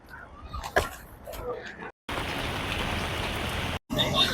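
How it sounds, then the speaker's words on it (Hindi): Light monsoon rain falls during a ride through Indore, heard as a steady wash of hiss after a stretch with a voice and scattered noises, broken by two brief dropouts. "हाँ, हल्की फुल्की बारिश है"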